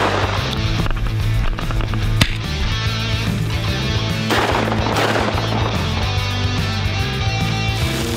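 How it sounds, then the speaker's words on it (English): Shotgun fire during a California quail hunt, loud sharp blasts standing out over constant outdoor background noise, with no talking. "Fired a few warning shots at some others."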